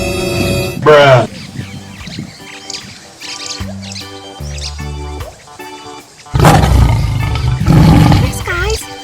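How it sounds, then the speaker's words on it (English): Siberian tiger giving deep roars and growls in two loud bursts, one near the start and a longer one at the end, with music and voices in between. "this is a Siberian tiger"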